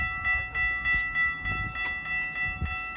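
An Amtrak Empire Builder passenger train rolls past nearby at a suburban railfan spot, with steady rhythmic wheel clacks and a sustained whine from the passing cars.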